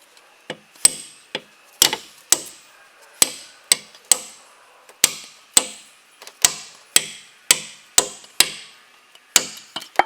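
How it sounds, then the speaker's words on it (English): Sharp metallic hammer taps drive a fork under a car trim clip in a steady rhythm, about a dozen and a half close blows, each ringing briefly before the next. "hammer it from below"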